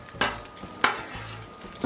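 Bourbon chicken sauce hits a hot griddle with a sharp burst of sizzle, a second loud hiss follows as it spreads, and a steady frying crackle continues between scraping and stirring noises, with no talk.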